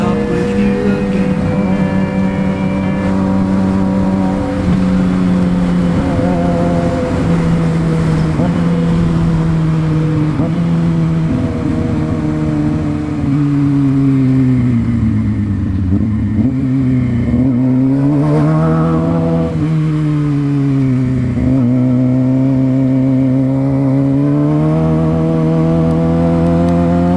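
A sport bike motorcycle engine drones steadily while riding in town traffic, its pitch rising and falling as it shifts and revs, loud and close throughout.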